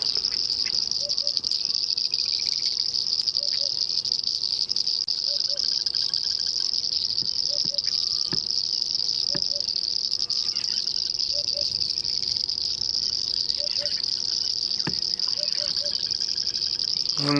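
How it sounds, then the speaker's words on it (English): Dense chorus of rain frogs and painted reed frogs calling at night after rain in the African bush, a constant high-pitched trilling with repeated short clicking calls pulsing throughout, no talking. "Some rain frogs, some painted reed frogs."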